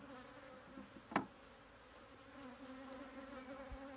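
Honeybees buzz around an open hive during an inspection, a faint steady hum of many wings with one brief louder buzz as a bee passes close.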